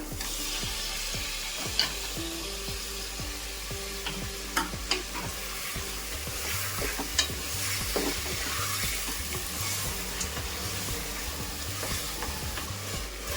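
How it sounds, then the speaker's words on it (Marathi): Finely chopped tomatoes sizzle in hot oil in a pan while making chicken biryani, with a spoon stirring and scraping in an irregular rhythm over steady frying, close by. "आता आपण त्याच्यामध्ये बारीक चिरलेले टोमॅटो टाकूया."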